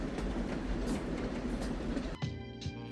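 Moving train in a film scene, steady clattering rumble of railroad cars with rhythmic clickety-clack, loud and continuous, briefly dropping away near the end before resuming.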